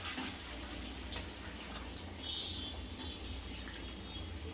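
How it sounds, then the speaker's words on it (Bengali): Water pours into a pot of chicken curry, a soft continuous rushing splash heard at low level without interruption. "এবার চলে যাচ্ছে জল।"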